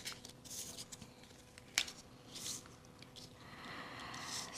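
Tarot cards are shuffled by hand, giving soft, faint riffling and papery slaps in brief bursts with a sharp snap near the middle, quiet and close with no talking.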